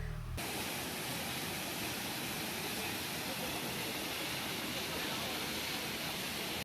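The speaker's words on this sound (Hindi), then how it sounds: "ये है शिखर वाटरफॉल।" Shikhar Waterfall near Dehradun in Uttarakhand, water falling between green mountains, gives a constant broadband rushing roar, loud and unbroken from start to finish.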